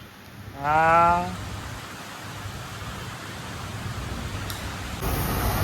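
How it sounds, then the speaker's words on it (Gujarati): Rain falls steadily on metal pipes outside a workshop, a continuous broadband hiss of drops that holds for the whole stretch, with a short spoken word near the start and a brief tonal sound over it. "આ જો પાઇપો ઉપર વરસાદ પડી ગયો."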